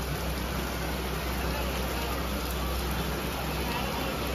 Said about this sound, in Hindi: तो बारिश पड़ रही है